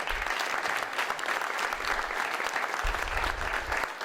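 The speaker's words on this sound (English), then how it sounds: "that deserves a round of applause" Audience applause at a veterans' policy gathering: dense, sustained clapping from a sizeable crowd that fills the room steadily for the full stretch without pause.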